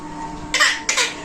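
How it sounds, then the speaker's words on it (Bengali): A small child gives two short, close coughs in quick succession, each a sharp burst, over a quiet room with a faint steady hum. "কাশি দাও তো"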